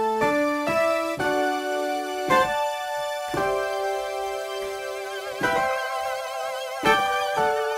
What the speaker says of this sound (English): I have a synth sound layered on top of the electric piano